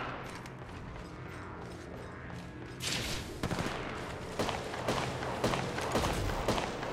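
Gunfire in the Apex Legends video game, with several loud bursts and single shots rising over a continuous game background, getting denser and heavier in the second half.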